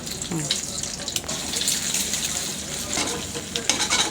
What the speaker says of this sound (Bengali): ডিমটাতে ঝুরি ভাজা করে লিতেছি।